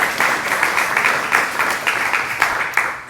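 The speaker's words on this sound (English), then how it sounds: "And while that in itself, yes, definitely deserves a round of applause." An audience applauds warmly at a school awards ceremony, with dense, steady clapping that carries on for several seconds at an even level, and no voices over it.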